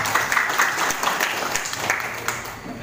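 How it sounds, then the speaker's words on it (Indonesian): Community members in an Indonesian village gathering give sustained, loud applause, a dense crowd of many hands clapping continuously throughout. "Tepuk tangan untuk masyarakat."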